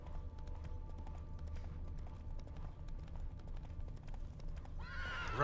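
Galloping hooves of a horse in The Witcher 3, a steady fast clip-clop running throughout over low game ambience, with a loud whinny breaking out near the end.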